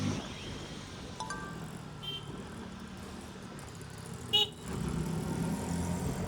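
A KTM Duke 160 motorcycle hums steadily in third gear through city traffic, its engine note low and smooth, with a brief horn toot and passing vehicles around it.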